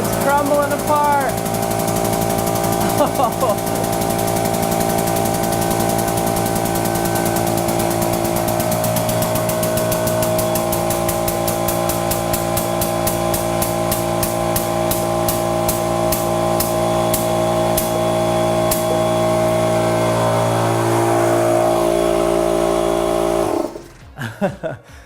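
A hydraulic press crushes a mirror-polished Japanese foil ball, a loud continuous mechanical whine and hum of the machine with rising tonal squeal and crackle, cutting off sharply with a few clunks at the end.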